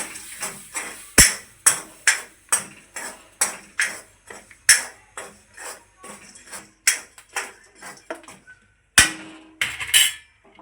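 Black chickpeas roast in a kadhai without sand and are stirred with a metal spoon: close, bright clinks and scrapes ring out in an uneven, steady rhythm with a few sharper knocks and no talk.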